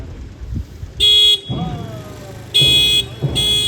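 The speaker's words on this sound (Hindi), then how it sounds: "ये हॉर्न यही बजा रहा है।" A car horn sounds in several short bursts, loud and close, with quieter vehicle and street noise filling the gaps between honks.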